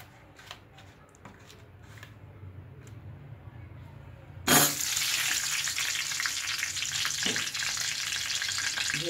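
A hilsa fish head rubbed with turmeric and salt drops into hot mustard oil and erupts into a loud, close sizzle midway, then keeps frying steadily after a quieter start.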